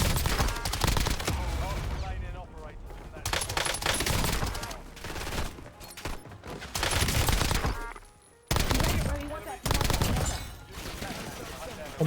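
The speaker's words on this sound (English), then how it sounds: "that guy just whiffed so many shots" Heavy, close gunfire in the Warzone shooter: long stretches of loud automatic fire and rapid shots with a few brief pauses, nearly continuous throughout.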